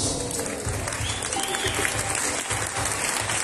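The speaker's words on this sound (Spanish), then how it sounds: "Le vamos a recibir con fuertes aplausos." Pageant audience at a town fair queen coronation clapping loudly and steadily, a dense wash of applause from a large crowd throughout.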